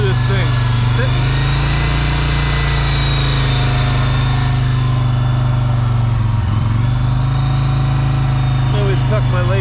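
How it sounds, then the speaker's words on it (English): A 1988 Yamaha Virago 750 cruiser motorcycle engine runs steadily at close range, a loud, even idle with a strong low rumble that stays constant throughout with no talking. "She's pretty quiet for a motorcycle."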